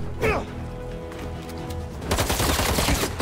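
Gunfire bursts in the video game Marvel's Spider-Man 2, a loud crackling volley rising sharply near the end over a busy game soundtrack.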